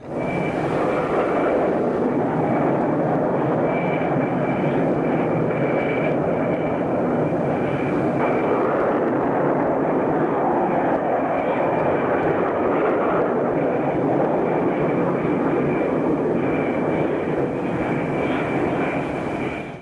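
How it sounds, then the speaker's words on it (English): Jet aircraft launched by catapult from an aircraft carrier deck, producing a loud, sustained engine roar that fills the whole stretch with a steady broadband rush and a faint high whine, with no talk. "This launch sequence continues with up to 4 aircraft dispatched almost simultaneously."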